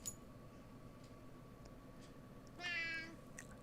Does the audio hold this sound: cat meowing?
yes